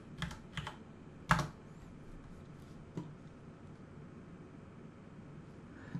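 Keys on a computer keyboard are pressed in a few isolated taps, one noticeably sharper, against a faint steady room hiss, during a Blender 3D modelling session; no talking.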